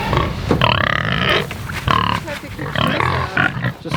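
Homestead pigs grunt and snort repeatedly at close range in irregular bursts, loud and overlapping, with no other voices.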